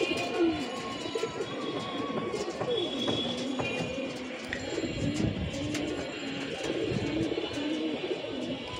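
Pigeons, including imported breeds and young birds, cooing on a rooftop loft: repeated soft, low, rolling coos from several birds nearby, with faint chirps and light background noise.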